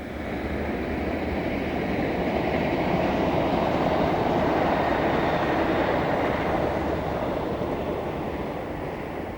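A British Rail Class 319 electric multiple unit passes on the Midland Main Line near Luton, a loud continuous broadband roar and rumble of wheels on rails that swells slightly mid-pass and holds steady throughout, with no voices.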